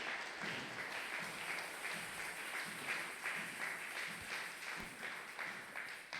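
A church congregation applauding during a prayer service, steady dense clapping from many hands, moderately loud and sustained with no pause.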